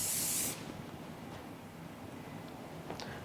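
Hair wax spray sprayed onto hair while styling a messy bridal front hairstyle: one short, loud hissing burst at the start, then quiet room tone.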